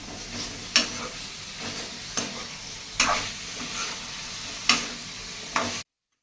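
Chicken gravy curry with a heavy dose of red chili powder stirred in a frying pan, a steady sizzle punctuated by about six distinct spoon scrapes at irregular intervals, close and fairly loud, ending suddenly in silence.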